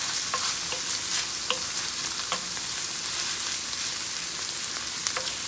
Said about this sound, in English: now I'm going to add my garlic because I did not want my garlic to burn